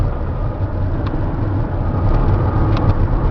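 Inside a 2008 Sprinter 3500 diesel cab chassis cruising at 60 mph over a bridge, a steady, loud low drone of engine and road noise holds without a break.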